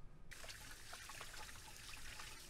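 Running tap water splashes and trickles steadily over hands being washed after mixing meatloaf ingredients, a close, continuous watery hiss with small irregular drips, beginning abruptly and carrying on alone.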